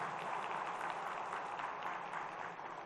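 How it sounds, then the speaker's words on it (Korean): Audience applause for drivers, a dense steady clapping from a crowd at moderate distance, continuous across the whole moment and fairly quiet. "그 운전하시는 분들 위해서 박수."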